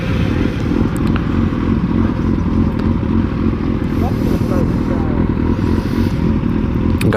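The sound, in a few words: motorcycles on a group ride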